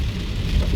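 Heavy rain falls steadily on a street on the outskirts of Las Vegas, a dense, even hiss of drops on hard surfaces with a low rumble underneath.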